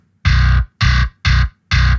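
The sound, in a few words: bass guitar with distortion effect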